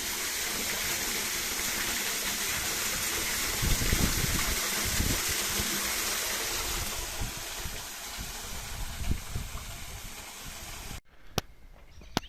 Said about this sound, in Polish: i będziemy pierwszą wodę zaraz tłoczyć.